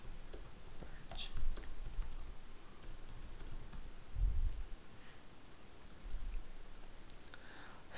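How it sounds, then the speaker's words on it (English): Soft keystrokes click at an irregular typing pace on a computer keyboard while a terminal command is entered, faint and close, with occasional low thumps among the taps. "just open this command line terminal and just type this command to remove the Libreoffice"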